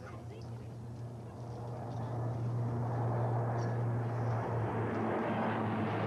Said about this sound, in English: With a C-130 Hercules and the P-3 Orion. So if you look to your right, you'll see these aircraft approaching now.